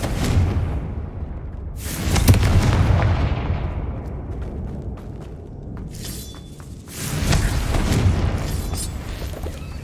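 Confringo spell explosions in Hogwarts Legacy burst repeatedly, heavy booming blasts with crackling debris that swell and fade in waves, two big eruptions separated by a rumbling lull.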